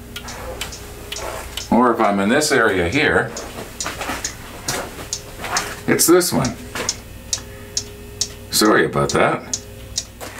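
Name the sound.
clocks ticking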